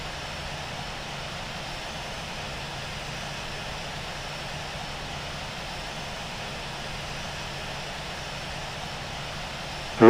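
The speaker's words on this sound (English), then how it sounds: "Taxiing to runway 16 right, will hold short of 725" Airliner taxiing at Rome Da Vinci airport in the Infinite Flight simulator, a steady unbroken jet engine hum and whine at constant level throughout.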